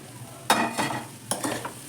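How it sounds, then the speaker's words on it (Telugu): Soya chunks and egg fried rice get stirred in a hot pan, with two scraping stirs rising over a steady low sizzle, close and clear. "దీన్ని కలుపుకోవాలి. మంచిగా కలుపుకొని కొంచెం కొంచెం దానికి పట్టాలి."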